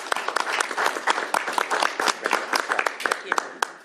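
Applause at a governor's bill signing ceremony for the state legislators who sponsored the bill, a sharp, moderately sized round of individual claps close by and irregular in rhythm.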